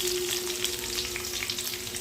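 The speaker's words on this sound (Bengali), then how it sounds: "আলুটা দিয়ে 2 মিনিট ঢেকে ভাজা ভাজা প্রায় হয়ে এসছে" Potato pieces fry in a covered pan during the making of a Bengali vegetarian jackfruit curry, giving a continuous close sizzle with crackly spits over a faint steady hum.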